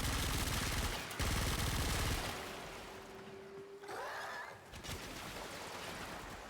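A machine gun firing in Warframe, a fast stream of shots in a loud opening burst that breaks off around the one-second mark, then a quieter stretch with a rising electronic whine and some softer effects.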